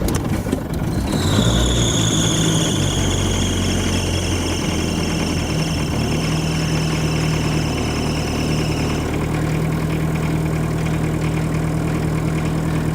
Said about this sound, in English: Now that noise was the fan belt.